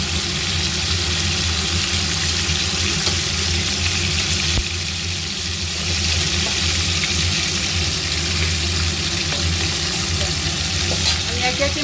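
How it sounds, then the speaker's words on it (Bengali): Large pieces of katla fish frying in hot oil, a steady dense sizzle running unbroken for the whole stretch, loud and close, with a low background hum and no talking. "মাছগুলোকে একটু লাল করে ভেজে নেব"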